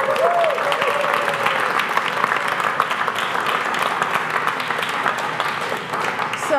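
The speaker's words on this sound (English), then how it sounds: "Let's give everybody another round of applause" A room full of people applauds everyone at a high school prize presentation, steady dense clapping lasting the whole stretch with a brief voice or whistle early on.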